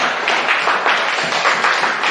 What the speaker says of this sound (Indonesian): Kasih tepuk tangan untuk kelompok herbivora